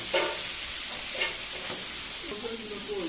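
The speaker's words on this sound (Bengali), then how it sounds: "হ্যাঁ, এদিকে আবার মাছ ভাজাও হয়ে গেছে, আস্তে আস্তে ভাজা চলছে।" Fish frying slowly in a pan, a soft steady sizzle with brief stirring scrapes and clinks, close but fairly quiet.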